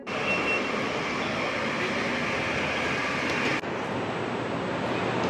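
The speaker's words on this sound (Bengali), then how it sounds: "গাইস এই পাশে ট্রেন যখন চলে এসে," A train rushes past close alongside at a station in Malaysia, a loud, steady roar of wheels and rail noise that holds throughout with a brief shift partway through.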